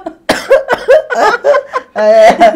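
A string of short, sharp coughs, about five bursts, ending in a longer rasping one, close and fairly loud.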